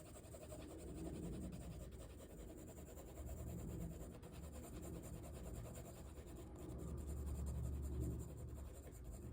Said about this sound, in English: I'm gonna use an HB pencil and just go back and add the midtone